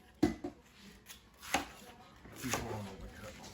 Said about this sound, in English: He's chopping up cabbage to go with the balsamic Dijon chicken.